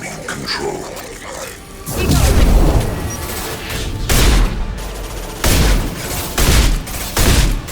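Heavy gunfire erupts during a Mass Effect 2 boss fight: loud, booming bursts in uneven clusters, one long volley followed by several shorter blasts, with quieter stretches of battle noise in between.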